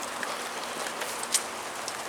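Light rain falls on the last day of December around a car being worked on, a soft steady patter with scattered close drops and one sharper tap, no talk.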